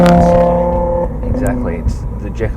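An Audi RS3 engine drones steadily at normal speed in suburban Sydney traffic, heard from inside the cabin as a low, even hum that fades under people talking.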